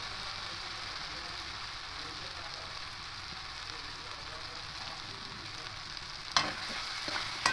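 Okra and potatoes with salt stir-fry in a pan, a soft, continuous sizzle with a few sharper scraping clatters of stirring near the end.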